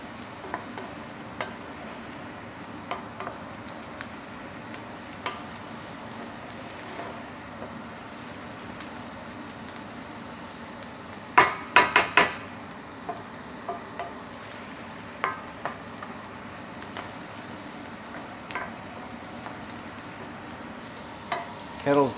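Chopped ingredients sizzle and fry steadily in a pan for a pappardelle ragu, with intermittent clacks and scrapes as they are tossed and stirred, loudest in a brief burst midway.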